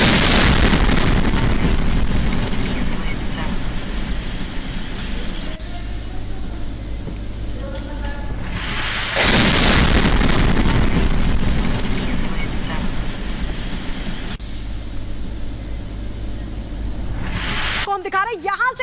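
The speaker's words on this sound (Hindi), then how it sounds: "सुनिए जरा उस धमाके की आवाज जो वहां पर इतनी तेजी से हुआ।" An explosion in Chernihiv, Ukraine, captured by a car dashcam: loud, sustained roaring blasts that swell, ease and surge again over constant road and engine noise.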